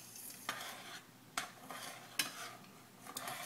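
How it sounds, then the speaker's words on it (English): A spoon stirs homemade flax seed gel thickening in a pot on the stove, giving a few distinct scraping strokes spaced about a second apart over a soft bubbling simmer, close and fairly quiet. "And I'll just continue to stir."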